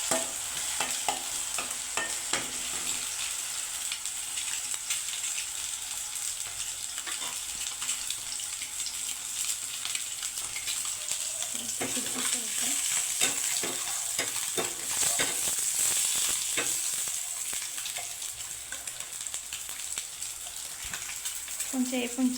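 Sliced onions soften in a pan over the heat, giving a continuous, fairly quiet sizzle with occasional scraping and stirring as a spatula moves them around.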